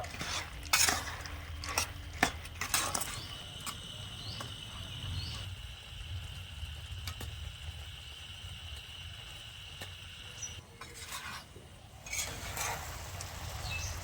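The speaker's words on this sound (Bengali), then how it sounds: "ভেজে রাখা বন্দিগুলো আমি ছেড়ে দেব এবারে গ্যাসের আঁচটা মিডিয়াম থেকে লো আছে মাঝামাঝি রেখে নেড়ে ছেড়ে একটু রান্না করে নেবো" Fried boondi is stirred in a pan over medium-low gas heat for laddu, with repeated scraping clicks of a spoon over a low background sizzle and no talking.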